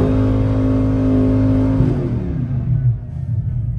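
A car engine held on line lock revs hard, a loud steady drone that holds high then drops and wavers as the throttle eases, alone without talk.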